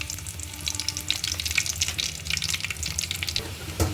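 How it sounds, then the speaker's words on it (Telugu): Garlic frying in hot oil in a pan while tempering a cucumber chutney, giving a steady close crackling sizzle that runs the full length, with a few brief clinks near the end. "నూనె కాగింది ఫ్రెండ్స్, ఎల్లిపాయలు వేసుకుందాం."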